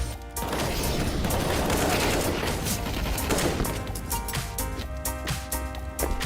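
Rapid gunfire from a Counter-Strike match fills the scene, loud bursts of shots and sharp cracks layered with clanking weapon and game effects, continuous with no pauses.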